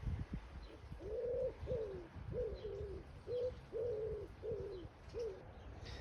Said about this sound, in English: I've still got a nesting pigeon in my apple tree